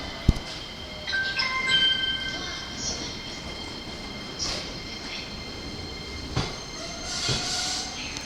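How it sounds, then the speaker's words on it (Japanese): A train pulls into a Japanese JR station platform with squealing wheels and steady rumbling, a sharp clack at the start and high metallic screeches throughout, while a station announcement plays. "電車が到着をいたします。"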